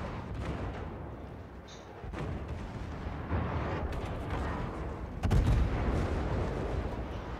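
Naval artillery booms in World of Warships, heavy rumbling gunfire thudding over a dense continuous battle din, with a few sharper blasts standing out near the end.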